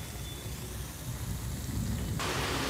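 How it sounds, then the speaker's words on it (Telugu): Steady outdoor rain falls in a dense broadband hiss during a power cut, with no voices. "బయట వర్షం పడుతుంది"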